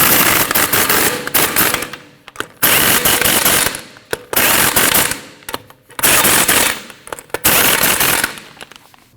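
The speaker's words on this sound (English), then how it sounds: "Now you want to tighten your 5 lug nuts up in a star pattern." Rapid bursts of an impact wrench tighten the lug nuts on a 2013-2019 Ford Escape front wheel, with four loud, rattling runs separated by short pauses.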